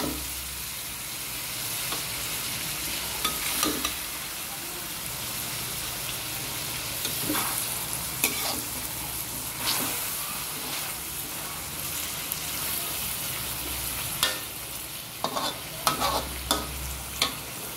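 Pancit noodles are stir-fried in a large batch, with a steady sizzle beneath frequent scraping and stirring clatter, close and continuous for the whole stretch.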